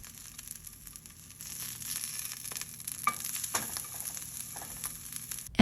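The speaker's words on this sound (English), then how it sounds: "I'm just going to quickly fry my onion and garlic." Onion and garlic fry in a pan with a steady, close crackling sizzle, occasional sharper pops and stirring scrapes, growing slightly louder partway through, with no talking.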